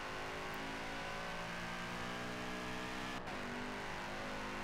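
A car engine droning steadily in a Forza battle royale race, a continuous loud hum with a brief dip partway through and no voices.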